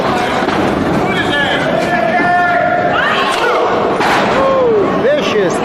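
A knee lift lands during a Portland wrestling match, a sharp slam-like impact ringing out over a constant roar of crowd noise and commentary, with voices talking throughout.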